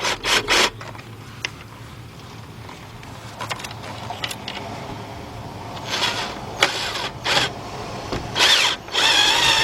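A ratchet with a wobble extension tightens 10mm bracket bolts on a 2005 Nissan Pathfinder with a 4.0 engine, giving scattered clicking and short metallic ratcheting bursts that grow busier toward the end, with no voices.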